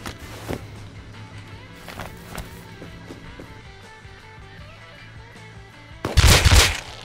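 AK rifle fire in the survival game Rust: a few sharp scattered shots early on, then a loud dense close burst near the end, over faint background movement.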